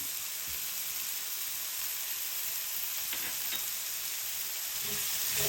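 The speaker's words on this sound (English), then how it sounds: "And now we cook the onions till it becomes translucent." Onions with salt frying in a pan for chicken tikka masala, giving a steady, soft sizzle throughout with a few faint stirring clicks and no talking.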